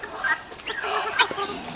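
Chickens cluck and chatter nearby in short overlapping calls over a light background hiss.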